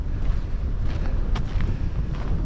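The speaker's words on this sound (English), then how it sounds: "It's a bit windy." Wind gusting across an open riverbank on a sunny opening day of whitebait season, a steady low rumbling buffet on the microphone throughout with no voices.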